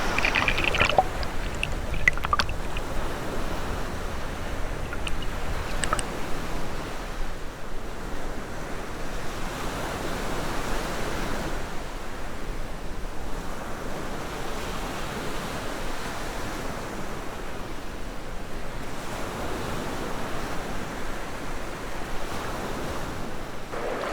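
The Binahaan River in Leyte, which swells quickly after rain, rushing steadily with a broad continuous wash of flowing water and some wind buffeting, no voices.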